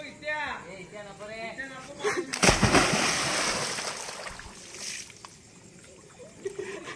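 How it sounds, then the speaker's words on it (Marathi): Voices chatter, then a sudden burst of splashing water as someone plunges in, followed by sloshing and churning that slowly settles. "मी आणि वँकी भाऊ पाण्यात पवतोय"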